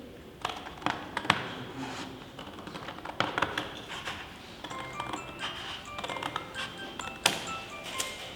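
Scissors cut a sheet of paper in half along a line, making quiet, close, irregular crisp snips and clicks with small pauses between cuts, and no one speaks.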